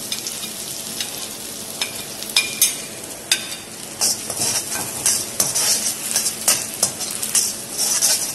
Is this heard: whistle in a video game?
no